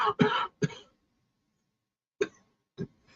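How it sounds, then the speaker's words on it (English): Two quick harsh bursts close together, a pause, then two more single coughs, each short and raspy with silence between. "I hate this cough."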